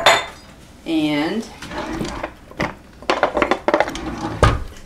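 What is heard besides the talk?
stirring sugar in a bowl with a spoon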